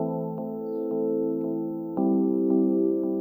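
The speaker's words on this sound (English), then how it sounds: "So the electric piano in itself, it sounds like this." Electric piano patch played in FL Studio for an amapiano track: sustained warm chords with soft attacks repeating about every half second, a fuller, louder chord change near the two-second mark, alone and clear.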